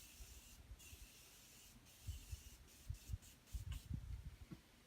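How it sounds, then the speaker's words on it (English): A Morphe makeup setting spray goes off in a few quick hissing spritzes close to the microphone, with soft rubbing and handling noises around them in an otherwise quiet room. "I found my Morphe setting spray"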